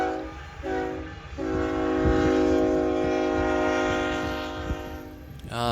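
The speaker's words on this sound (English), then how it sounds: "so there's got to be a train nearby, right?" A train rumbles past nearby, near Fort Union on the Missouri River, while its horn blares in long sustained tones, clattering and roaring loudly before fading at the end.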